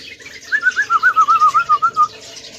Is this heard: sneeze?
no